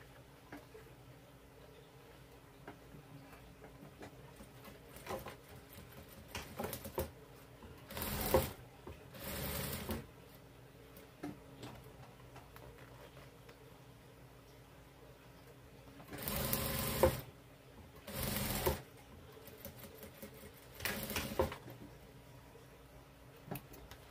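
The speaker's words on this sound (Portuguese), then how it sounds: "A gente vai passar uma costura reta aqui, aproximando o máximo possível dos dentinhos." A sewing machine runs a straight seam along a zipper for a fanny pack, in several loud bursts of rapid stitching separated by quiet pauses and small handling sounds.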